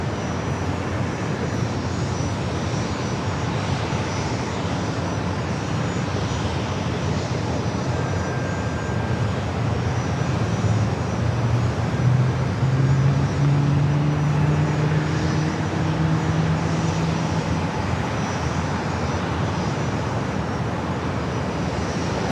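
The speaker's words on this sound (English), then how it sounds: "It's a Gulfstream G200 Galaxy." A Gulfstream G200 Galaxy business jet rumbles at San Diego airport, a constant distant roar with a low engine drone that rises and dips midway, no talking.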